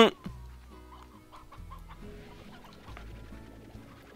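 A chicken clucks softly in a video game, a few short clucks heard against a quiet backdrop of game music tones.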